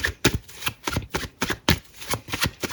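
Tarot cards are shuffled in quick, crisp riffling bursts of about a dozen evenly spaced flicks, close and clear, with no talking.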